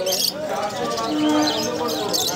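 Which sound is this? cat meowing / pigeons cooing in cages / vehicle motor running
pigeons cooing in cages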